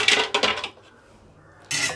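A plastic vegetable chopper attachment for a Prestige Endura Pro mixer being handled, giving a few quick clattering knocks, a short pause, then another burst of rattling, close and fairly loud.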